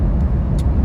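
A Jeep Gladiator drives along a 55 mph road with a low, steady engine and road rumble, briefly dipping as the transmission shifts into 8th gear.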